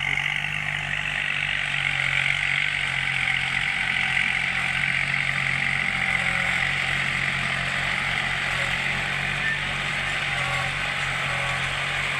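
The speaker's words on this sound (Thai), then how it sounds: "เสียงรถก็ยังเสมออยู่" A tractor engine runs steadily throughout, a continuous low rumble with a constant drone and no breaks.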